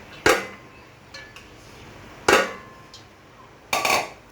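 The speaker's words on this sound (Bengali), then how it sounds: "প্রথমে আমি কিমাগুলো হাঁড়ির মধ্যে ঢেলে দিব, তারপরে ডালটা" Minced meat and lentils are tipped into a cooking pot in three separate bursts, each a sharp clatter against the metal followed by a brief scraping rustle. The sounds are close and clear, with quiet pauses in between.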